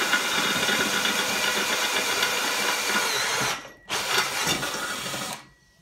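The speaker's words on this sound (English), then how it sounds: "So I need to drill the metal pipe" A power drill bores through a metal pipe for a skateboard quarter pipe build, running as a loud continuous whine with a brief break near the end before it resumes and then stops.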